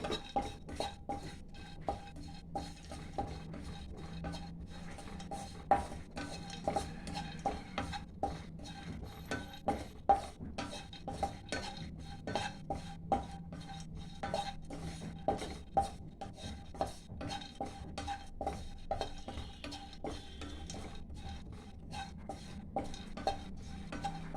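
Dry fruits being dry roasted in a pan for a short time, with a steady run of light scraping, stirring and clinking of a utensil against the metal pan, close and fairly quiet, with no talking.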